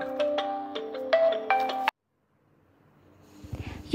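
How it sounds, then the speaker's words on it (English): A phone ringtone melody plays clearly, stops abruptly, then after a silence returns faint and muffled inside a paper bag, dull and low. "let's hear it when I put it inside the paper bag."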